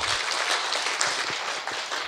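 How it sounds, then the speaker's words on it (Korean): Audience applause at an academic Buddhist studies seminar, a steady, moderately quiet patter of many people clapping with a few sharper claps poking through, heard from a distance in the hall. "한번 박수 부탁드립니다."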